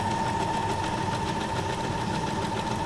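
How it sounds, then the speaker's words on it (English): A sewing machine mending a sock runs in a steady, continuous mechanical whir with a constant hum, close and fairly loud throughout, with no talking. "So I just pull out the sewing machine and fix it."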